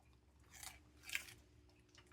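Crunchy raw celery being chewed up close, two or three crisp crunching bites standing out against a quiet background, faint and without speech.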